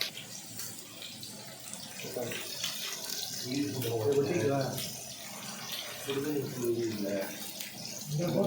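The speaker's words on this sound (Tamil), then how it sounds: "தண்ணி ஊற்றுங்க" Water is poured and splashes while fish is being cleaned outdoors in a village near Kodaikanal, a soft running and splashing sound under people talking.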